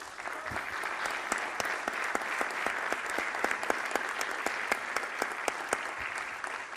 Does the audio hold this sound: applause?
yes